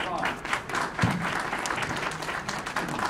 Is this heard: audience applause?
yes